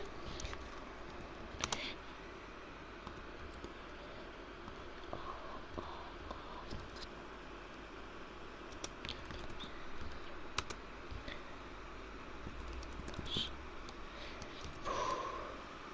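Keys on a computer keyboard clack faintly in irregular bursts over a steady room hiss, with scattered sniffs and no speech.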